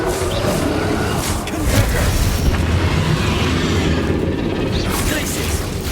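Booming blasts and crackling bursts from Confringo fire spells in Hogwarts Legacy combat roll through a dense, continuous battle din, loud and layered with no clear pauses.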